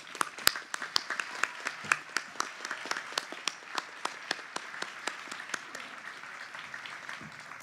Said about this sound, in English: let's extend everyone a round of applause